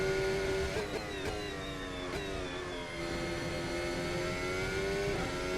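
An F1 2024 race car in a video game laps Abu Dhabi, its engine a loud, high, tonal whine that climbs and drops sharply through quick gear shifts, heard close and without talk.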